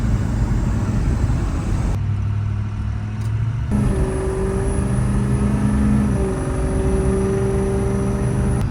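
A 6.0 Powerstroke diesel truck pulls hard at full throttle, its engine drone loud and steady throughout, with a gear shift partway through and rising tones as it builds speed.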